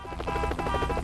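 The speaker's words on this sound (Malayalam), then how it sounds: "ഹെലികോപ്റ്റർ" Helicopter in the video game MadOut 2, a steady mechanical rotor drone with layered engine tones, held loud and close for a brief moment with no talk over it.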